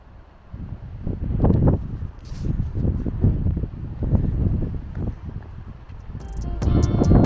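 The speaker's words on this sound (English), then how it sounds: "It's a little windy on this side." Wind gusts buffet the microphone on a rocky hiking trail at Hanging Rock State Park, a steady low rumble that swells and eases throughout, with a faint voice near the end.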